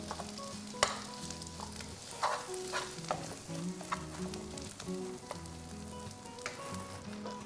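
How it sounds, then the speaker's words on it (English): Spoon stirring and breaking up pork liver pate with peanut butter in a hot pan, giving steady sizzling and frying with repeated scraping clicks and knocks of the spoon over several seconds, close and fairly loud, no talking. "Use the spoon to break up the pork pate."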